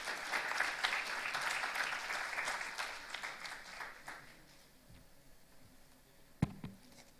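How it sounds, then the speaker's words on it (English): Audience applause at an innovation summit, a moderately loud stretch of many hands clapping that gradually thins out and fades, followed by a couple of isolated knocks near the end. "Round of applause, everybody."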